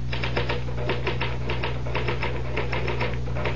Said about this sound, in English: the typewriter, or rather, Mr. Gahn, does all the brain work